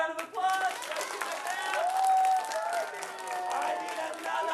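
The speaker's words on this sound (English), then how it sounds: "Big round of applause." An audience claps for a young volunteer at a live stage show, a brief burst of applause that swells and lingers under a presenter's voice speaking throughout.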